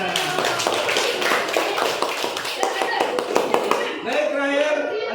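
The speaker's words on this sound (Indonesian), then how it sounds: "Beri tepuk tangan dulu buat kita semuanya" A classroom of students applauds after a Quran recitation lesson, a dense patter of clapping hands that runs continuously under a teacher's voice, with the talk carrying on across the whole stretch.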